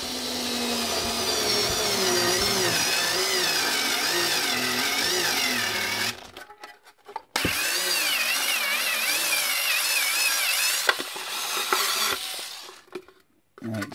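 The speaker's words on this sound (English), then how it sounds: "So what we'll do now is we'll just drill these out." A power drill whines loudly and continuously drilling out holes in a joystick enclosure, pitch wavering under load, stopping briefly before starting again for another long run, then cutting out.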